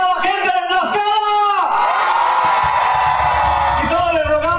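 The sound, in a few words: crowd of people shouting at a rally in Tlaxcala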